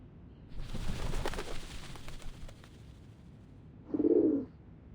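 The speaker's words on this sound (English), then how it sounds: "The doves of the Whitestone House are here." Doves coo in the video game Reverse: 1999. A soft rustling, airy bed of ambience swells and fades, then one clear, close, low coo rises near the end, heard alone without talk.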